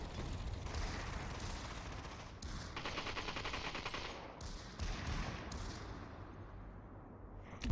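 Gunfire in the VR battle royale game Population: ONE, dense bursts of rapid automatic shots rattling continuously at moderate loudness, with brief pauses between volleys.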